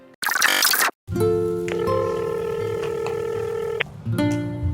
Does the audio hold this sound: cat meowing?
no